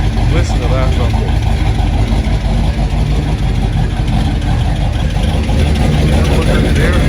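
A 1965 Chevrolet Impala SS 409 V8 with stainless dual exhaust and performance mufflers rumbles loudly and steadily, a deep continuous idle burble close by with a faint voice mixed underneath.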